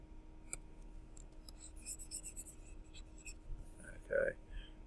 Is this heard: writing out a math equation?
yes